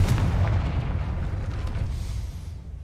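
A Confringo blasting spell goes off in Hogwarts Legacy with a deep rumbling boom that fades away over a few seconds.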